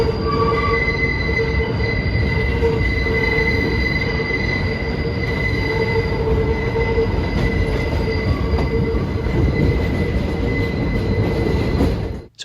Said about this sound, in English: 7 trains from Manhattan pull into the elevated station with a backdrop of Manhattan skyscrapers across the East River